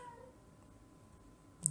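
A female cat lets out a single brief meow near the end of a short stretch of quiet room background, close to the microphone, with no talking.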